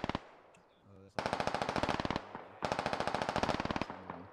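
Rapid automatic gunfire from the military video game Squad comes in two long, loud bursts of evenly spaced shots, with brief pauses before and between them.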